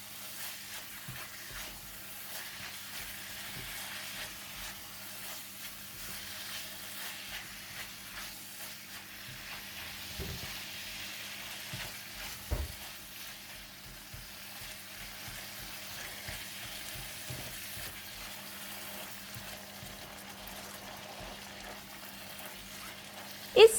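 Minced pork stir-fried with soy sauce in a pan gives a soft, steady sizzle with occasional scraping stirs and light clicks, quiet and close.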